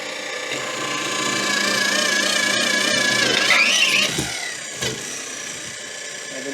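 A worn drill bit bores through material in a garage workshop while a table is being built, a steady whining drill tone rising in pitch before cutting out around four seconds, then brief bursts follow.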